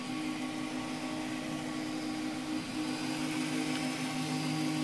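A 3D printer fitted with an E3D SuperVolcano hotend draws plastic filament at high speed, giving a steady mechanical hum with fixed whining tones that hold evenly for several seconds without any talking.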